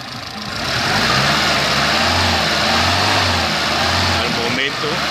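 A Chevrolet Chevette engine revs up during ignition timing adjustment and holds a loud, rough drone, pulsing in slow waves of acceleration.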